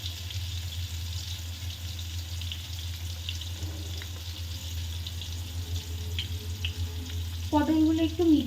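Pointed gourd (potol) frying in hot oil, a continuous busy sizzle over a low steady hum, with faint clinks and a brief tonal squeal near the end.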